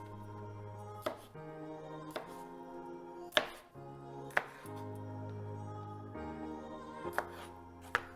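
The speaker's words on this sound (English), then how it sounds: "So our cherry tomatoes, we're gonna cut these in half." A knife slices cherry tomatoes in half on a cutting board for a layered spring salad, with about eight sharp, evenly spaced chops standing out over steady background music.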